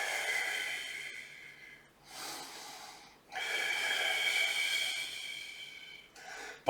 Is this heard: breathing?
yes